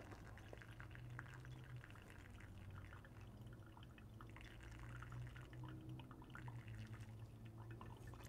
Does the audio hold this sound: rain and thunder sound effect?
no